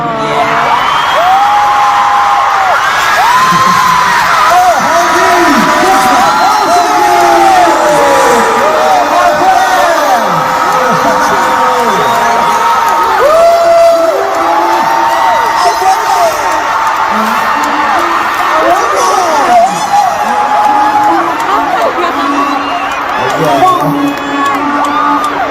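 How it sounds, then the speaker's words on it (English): Fans cheer in a packed stadium concert, a huge sustained roar of screams, whoops and shouts rising and falling throughout, loud and continuous with many overlapping high voices. "we can actually hear army cheering"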